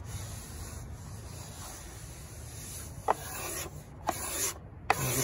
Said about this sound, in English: I'll use that 40 grit sandpaper to really, to get the slope working.